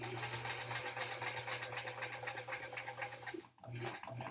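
A sewing machine stitches quilt block seams with a steady, close mechanical hum and rapid needle chatter, pausing briefly before starting up again.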